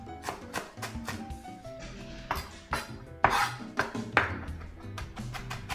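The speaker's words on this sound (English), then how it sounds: "I'm chopping it so finely it almost is turning into a paste" A knife chops herbs finely on a board for chimichurri: a steady run of quick, close knocks and taps, louder in spots, with no talk.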